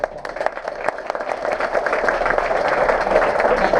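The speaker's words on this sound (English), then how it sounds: "let's give them a little round of applause" Applause for board members at a self-storage association meeting: steady crowd clapping in a medium-sized room that swells and holds at full strength, with no voices over it.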